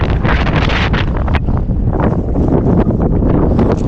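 Loud, steady wind buffeting the microphone at an airport, a constant roaring rumble with gusty fluctuations and no pauses.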